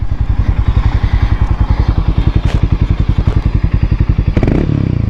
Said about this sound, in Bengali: তোমাদেরকে এক্সস্ট নোটটা একটু শোনাই